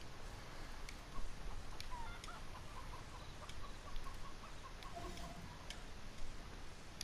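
Chickens in the video game Far Cry 5 give soft, repeated clucks against a constant rushing ambient background, low in level and with no talking.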